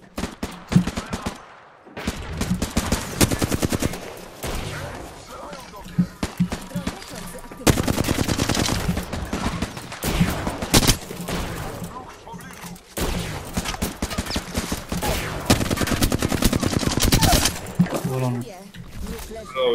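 Rapid automatic gunfire bursts in Apex Legends, dense and loud throughout, separated by a couple of brief pauses, with Polish chatter mixed in.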